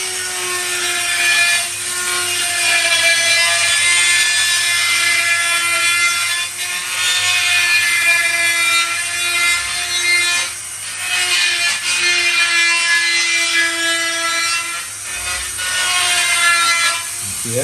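A kudu horn shofar's mouthpiece cup is shaped and tuned with a tool, giving a continuous rough grinding and rubbing noise with a pitched whine that shifts slightly over time, close and loud.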